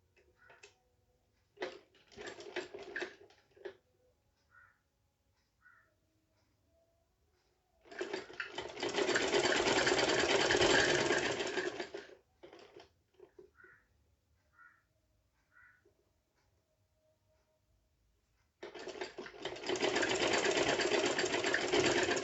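Sewing machine stitching a folded panel of an umbrella frock, starting with a few short stop-start runs and then two long steady bursts of close, loud whirring, with quiet fabric handling in between.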